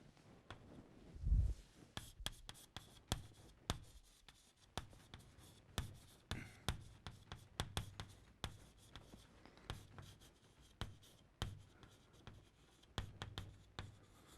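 Pen scratching and tapping on paper, short irregular strokes repeating steadily, close and quiet, with no talking.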